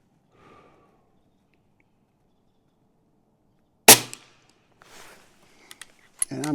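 A custom Umarex UX Notos air pistol fires one sharp, close crack, followed by a few fainter clicks and handling sounds, then another snap at the end.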